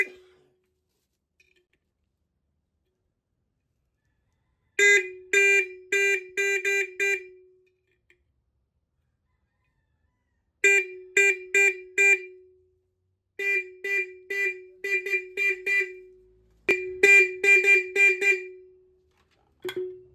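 A custom-built car horn blares in short high-pitched bursts, clusters of three to five quick honks separated by silent gaps, loud and close with no talking over it.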